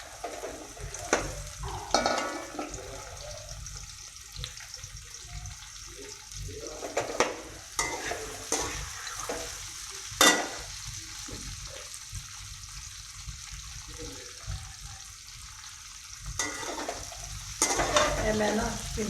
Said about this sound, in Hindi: उसके अंदर मैं ना डालने लगी भिंडी।